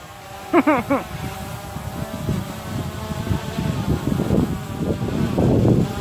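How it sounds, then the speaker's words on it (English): Gusty wind in Spain buffets the microphone with low rumbling throughout, while a brief motor whine sounds early on and people talk faintly. "Oh my god. Please come back."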